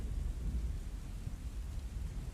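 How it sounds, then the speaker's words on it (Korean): Heavy falling rain and strong wind with thunder make a dense, steady roar dominated by low rumbling, continuous and without pauses or voices. "떨어지는 빗소리와 세찬 바람 소리를 듣고 있으니 왠지 가슴이 두근거렸다."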